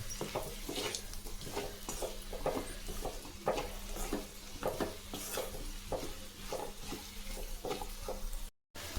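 Potato fry sautéed in a pan over medium heat, an oily sizzle under a steady rhythm of spatula scrapes and stirs, close and continuous, with a brief dropout near the end and no talking.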